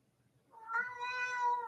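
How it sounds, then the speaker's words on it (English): A domestic cat lets out a single drawn-out meow, fairly faint and alone, rising and holding for about a second in a quiet room. "that's my cat. I don't know if you can hear my cat."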